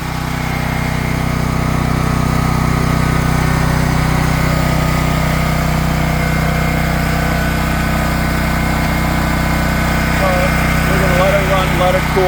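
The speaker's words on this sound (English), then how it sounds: "Now you want to let a generator run for a minute or so after you shut any kind of draw off." A Champion dual fuel generator keeps running steadily after its electrical load has been shut off, a continuous close engine drone with a faint voice near the end.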